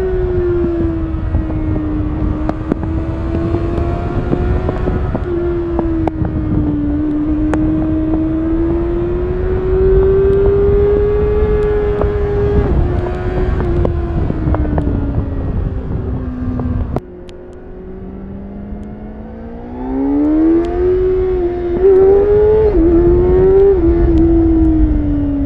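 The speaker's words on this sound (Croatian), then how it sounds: "Motor para cestu." A 2024 Kawasaki Ninja 636 motorcycle engine running steadily while riding, with a loud, continuous tone that rises and falls as the throttle changes and briefly drops before climbing again.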